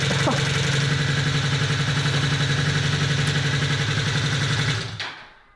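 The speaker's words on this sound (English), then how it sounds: "I'm going to start the bike up." A Honda CB250 Super Dream motorcycle engine idles warm with a steady, even throb close by, then cuts out and falls quiet near the end.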